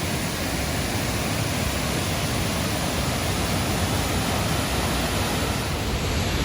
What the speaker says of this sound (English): we've made it to the top of Thornton Falls. 14-metre drop apparently, and it's impressively powerful looking down there.